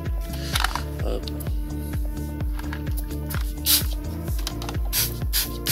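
A foam cannon is shaken and sprays foam, with repeated rhythmic rattling and hissing spray bursts close by, under a man's speech and a steady low hum.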